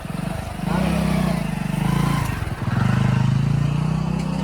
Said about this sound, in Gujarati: સરપંચનું બાઇક છે એવું લાગે હો મને